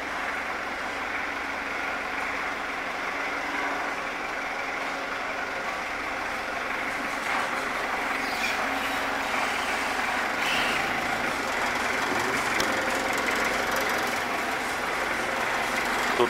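A GAZ Gazelle truck engine runs steadily while pulling away, a loud, continuous low rumble with a gentle rise in intensity and no voices over it.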